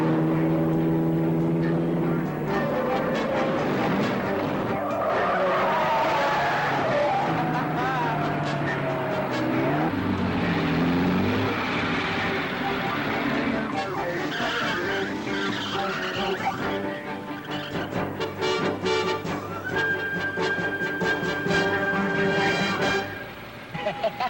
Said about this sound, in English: that's some fancy driving